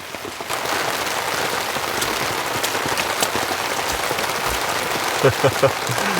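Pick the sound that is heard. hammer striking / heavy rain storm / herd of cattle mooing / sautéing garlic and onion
heavy rain storm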